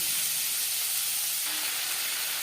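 Onion and tomato frying lightly in oil for a tilapia fish curry, giving a steady, even broadband sizzle and hiss that stays constant and alone throughout.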